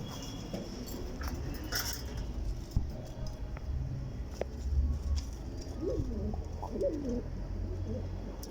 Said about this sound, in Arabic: برضه احنا بنتكلم في حمامات نش وحمامات مطار